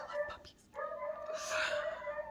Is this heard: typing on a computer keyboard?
no